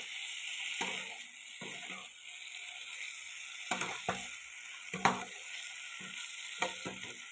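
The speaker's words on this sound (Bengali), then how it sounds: "এবার একটু ভালো করে কষিয়ে দিই।" Paneer curry masala being sautéed in a pan, a steady low sizzle with scattered soft scrapes and stirring knocks from a spoon against the pan, close and fairly quiet with no voices.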